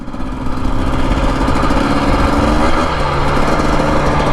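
A 2025 Husqvarna TE250 two-stroke dirt bike engine runs steadily and close up while riding rough desert trail, holding a continuous buzzing drone without talk.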